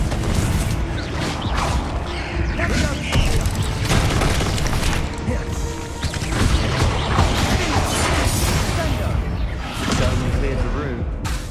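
Confringo and Bombarda spell blasts from the game Hogwarts Legacy burst in a dense, loud barrage of booms, crashes and crackling impacts that barely let up, with voices mixed into the din.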